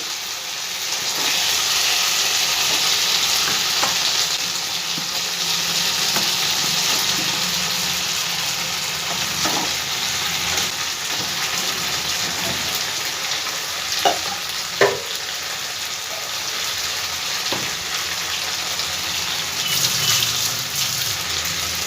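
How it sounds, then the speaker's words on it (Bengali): Potatoes and ridge gourd fry with spices in a pan over a medium gas flame, giving a steady loud sizzle with occasional scraping stirs and clinks throughout, no talk. "আলু আর ঝিঙে ভালো করে মশলার সাথে আমি কষিয়ে নেবো"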